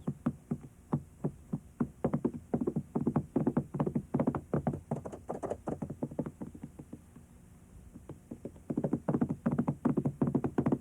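Rhythmic hollow clip-clop of coconut shells mimicking horse hoofbeats for an audiobook sound effect, a steady trotting pattern that pauses briefly then resumes, close and clear with no talking.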